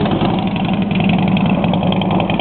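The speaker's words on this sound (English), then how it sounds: "I'm going to start it for you and let you hear those pipes." A Harley-Davidson anniversary Springer motorcycle with loud pipes runs close by, its engine rumbling in a steady, throbbing idle that stays loud and even throughout, with no talking.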